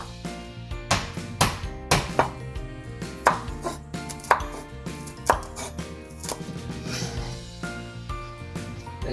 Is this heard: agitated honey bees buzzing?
no